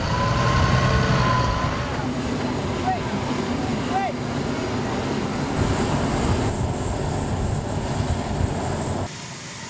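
Aircraft engines roar steadily on a military flightline tarmac, a loud continuous drone with a faint whine, while people talk nearby over the noise.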